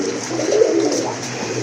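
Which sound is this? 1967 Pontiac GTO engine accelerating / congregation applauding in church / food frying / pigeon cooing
pigeon cooing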